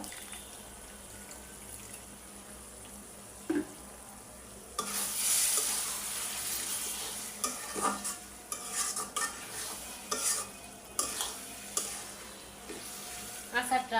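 Amra (hog plum) pickle cooks in a pan as vinegar is added, starting as a quiet low hiss and then breaking into louder sizzling with repeated scraping and clinking stirs.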